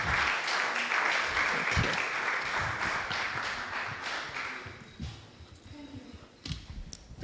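A conference crowd at a fintech event applauds to welcome the keynote speaker, a broad wash of clapping that holds for several seconds and then thins out, with scattered murmuring underneath.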